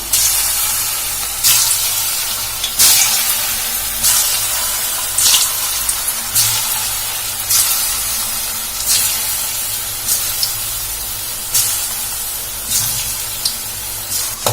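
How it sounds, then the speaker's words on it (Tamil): Small balls of leftover cooked rice dough deep-frying in hot oil, a steady close hiss and sizzle with repeated bursts as pieces drop in and bubble, no voices. "தண்ணி தொட்டுட்டு நம்ம சின்ன சின்ன உருண்டையா எடுத்து ஆயில்ல போட்டு ஃப்ரை பண்ணி எடுத்துக்கலாம்"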